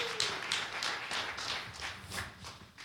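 Audience applause during a church meet-and-greet announcement: a steady run of hand claps across the whole stretch, moderately loud and fairly close, fading slightly toward the end, with no voices over it.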